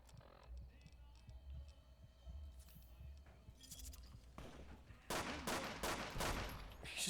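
Rapid gunfire from a companion firing in Fallout New Vegas, a burst of sharp loud shots in the last two seconds following a stretch of game ambience and low hum.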